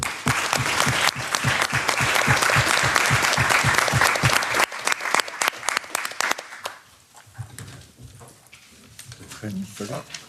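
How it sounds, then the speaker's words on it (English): An audience at a meeting on PFAS pesticides breaks into steady, dense applause lasting several seconds, then fades to scattered claps as a voice starts speaking over it. "Big round of applause."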